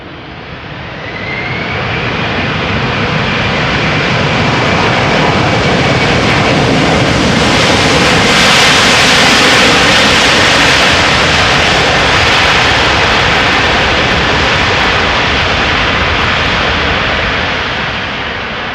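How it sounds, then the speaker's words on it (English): Airliner landing at Amsterdam Schiphol with thrust reversers deployed, a loud, sustained broadband roar that swells through the middle and eases slightly at the end, with a faint whine riding above it. "let's listen, see if those reversers get some work done"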